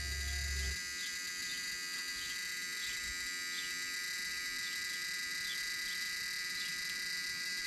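A 1993 Ford F150 with a 300 straight six and an electrical fault, key turned but not starting, gives off a steady electrical buzz and hum with faint repeating ticks after a short low thump at the start.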